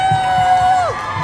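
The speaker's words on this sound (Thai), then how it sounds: "ขอเสียงปรบมือให้ UNS Clinic นิดนึง" A crowd cheers and whoops at a Uranus Clinic show event at Robinson Lat Krabang in Bangkok, a brief burst of voices with a shrill sustained tone that slides down near the end.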